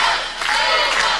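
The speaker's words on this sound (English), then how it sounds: "And the fans cheering for Chris Daniels," Wrestling fans roar and cheer for Christopher Daniels during a match against Samoa Joe, a dense, loud crowd noise filling the short moment.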